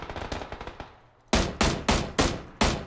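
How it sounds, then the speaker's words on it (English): Rapid rifle fire in PUBG: a quick burst of fainter shots is followed by a pause, then five loud, evenly spaced close gunshots, each with a sharp crack and short decay. "You're getting shot on your side in this fucking building over here, I think."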